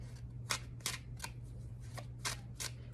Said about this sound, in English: Let's do one more little shuffle.